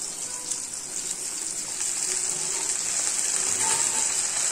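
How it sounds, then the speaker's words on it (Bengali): Water poured into a hot cooking pan while a Bengali dish with a little sugar cooks, giving a steady, even hissing sizzle that holds at a constant level throughout, with no voices. "এখন একটু জল দিয়ে নেড়ে নেব।"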